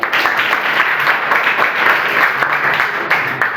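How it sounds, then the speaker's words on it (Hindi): A room of schoolchildren at a government middle school in Vaishali, Bihar, breaks into loud, dense, sustained clapping that carries evenly for several seconds with no talking. "चलिए एक बार जोरदार ताली।"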